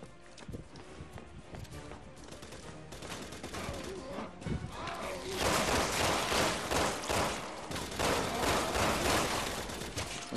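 Gunfire rattles through a Resident Evil 6 match as shots and bursts pile up, growing into dense, continuous volleys in the second half under background game noise.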